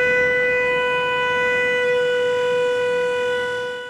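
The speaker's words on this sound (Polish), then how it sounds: "włączają syrenę, taką samą, której używają żeglarze w trudnej sytuacji" A steady, loud sailors' distress siren, the kind used in fog, holding one harmonic-rich tone for several seconds, fading slightly at the end, with no talking.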